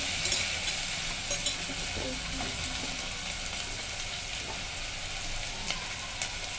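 Potatoes with capsicum frying in a pan for masala rice, a steady sizzling hiss with occasional stirring clinks of a spoon against the pan.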